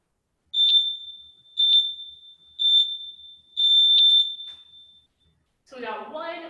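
A workout timer clock beeps four times in an even, steady rhythm, each beep a loud, clear tone that rings briefly, before a person starts talking at the end.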